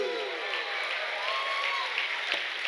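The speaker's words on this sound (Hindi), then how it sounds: "आइए यीशु के लिए एक जोरदार ताली बजाएंगे।" A church congregation claps loudly for Jesus during a sermon, a dense, even wash of applause from many hands that holds steady throughout, with faint crowd noise mixed in.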